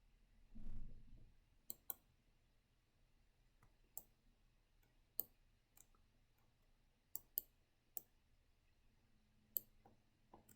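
A computer mouse clicks sharply a dozen times at irregular intervals while dragging in Krita animation software, each click crisp and close against near silence, after a brief low thump at the start.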